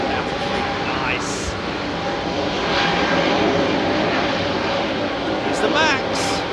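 Boeing 737 MAX jet airliner at London Heathrow, a loud continuous engine roar close by, with voices talking over it throughout.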